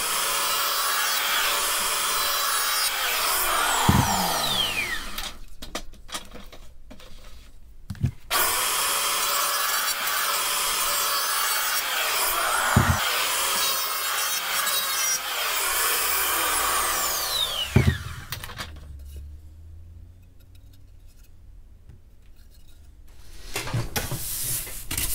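Reclaimed pallet wood pieces being sanded with a power sander, a loud continuous rasping hum running in long stretches with brief stops and repositioning knocks between passes.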